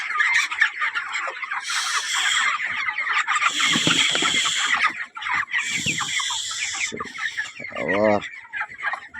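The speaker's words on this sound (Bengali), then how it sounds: "মুরগির চাপ হয়ে গেছে ঘরে" Chickens clucking and calling inside a crowded, hot poultry house, a dense continuous flock chorus with overlapping squawks and a louder nearby call near the end.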